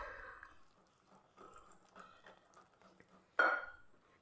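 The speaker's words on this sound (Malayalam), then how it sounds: "വെള്ളം നമുക്ക് നോക്കിയിട്ട് ഒഴിച്ചു കൊടുക്കാം" Water poured into a bowl of maida flour, heard as faint scattered splashes and soft wet stirring, with a louder splash near the end; quiet throughout.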